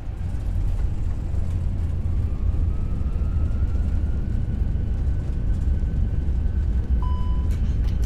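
Airbus A321 engines roar steadily at high power in reverse thrust on the landing rollout in the Prepar3D simulator, a dense continuous rumble with faint cockpit tones layered on top.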